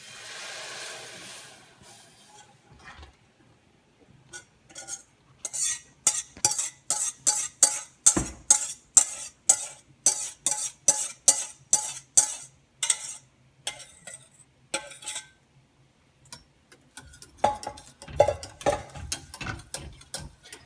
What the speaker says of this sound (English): you just want to keep stirring it until it starts boiling